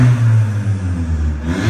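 A stock manual VW Golf TSI with a new diffuser downpipe, diffuser open, revs hard nearby in a single sustained, loud engine roar that rises and falls slightly.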